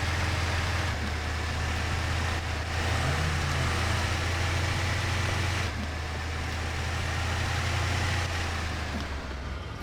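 Truck engine idling steadily in the Mudrunner off-road driving game, a continuous low rumble with a deep droning hum that holds at an even level throughout, with no speech.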